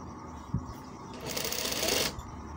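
A sewing machine stitches a kameez in one short, close burst of rapid whirring, preceded by a small handling knock.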